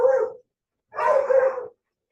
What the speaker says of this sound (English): are you guys hearing that dog?